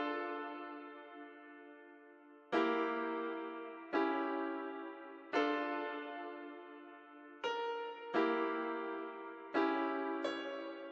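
Clean piano from the first preset of the Piano Tech 6 plugin, playing a series of sustained chords that each strike fresh and decay, about eight attacks over eleven seconds, heard alone with no voices.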